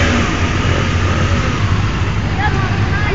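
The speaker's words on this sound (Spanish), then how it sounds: "Ahora, que veo que ya marchó la moto" Motorcycle engine at a bike rally, a steady loud rumble with a brief rising rev near the end as the bike pulls away, under outdoor noise.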